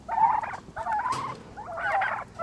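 Turkeys squabble over watermelon and strawberry treats, giving three rapid, chattering gobble bursts close by with short pauses between, with no talk.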